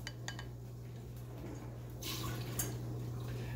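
Water pours out of a cast iron cauldron in a kitchen, a soft running splash with light metallic clinks, steady and fairly quiet with a slightly louder surge toward the end.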